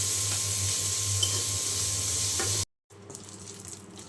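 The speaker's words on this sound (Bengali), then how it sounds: "পেঁয়াজ কুচিও দিয়ে দিলাম। এখন পেঁয়াজটাও ভেজে নেব।" Chopped onion frying in mustard oil, a steady broadband sizzle that stays even and close for a few seconds, then cuts out abruptly before a quieter, softer crackle resumes.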